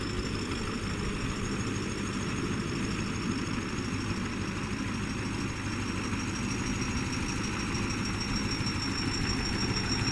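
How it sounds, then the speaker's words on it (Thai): A Hino V8 turbo engine powers a rotary tiller tractor working a rice paddy, a steady low rumbling drone with a faint high turbo whine, heard from a distance. "ฟังเสียงเธอโบสุดจัดเลยพี่น้อง"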